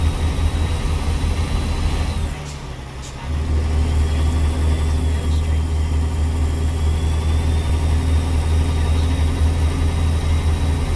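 Cat 3306 diesel engine in a Peterbilt 357 truck in American Truck Simulator, running with a steady low rumble that dips briefly before pulling again at a constant loud drone, no talking.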